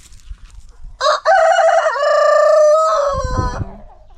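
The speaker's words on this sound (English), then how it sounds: "The cocks and the hens." A rooster crows loudly and close by in one long, wavering call, with faint hen clucking and rustling around it, at a home in Kenya.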